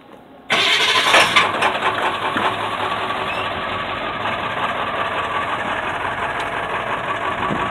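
A vehicle engine cranks and fires abruptly after a brief quiet start, then settles into a steady close rumbling idle that continues to the end, near a busy spot where people drive through.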